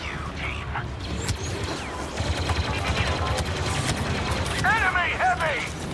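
Sustained gunfire in the Star Wars Battlefront II battle of Jakku: a continuous crackle of blaster volleys and mechanical clatter, with shouting voices and a few whistling tones over the din.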